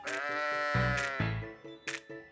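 Sheep and goats on a dairy and meat farm in Bacolor, Pampanga, bleating loudly and close, several overlapping wavering calls one after another, with no talking.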